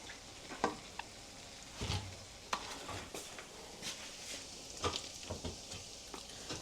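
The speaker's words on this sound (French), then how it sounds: "les beignets sont en train de bien cuire" Large beignets of butter-rich dough frying gently over low heat, a soft bubbling sizzle with scattered crackles and pops and a few utensil knocks, no talking.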